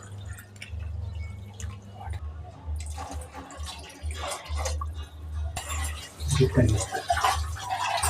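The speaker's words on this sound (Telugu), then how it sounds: "నేను మిగతావి వాటర్తో ఫిల్ చేసేస్తున్నాను" Water pours into a vessel of coconut milk with a steady splashing rush that gets louder and fuller toward the end.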